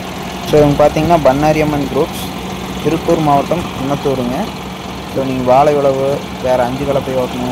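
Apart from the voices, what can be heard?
John Deere 5075E tractor engine running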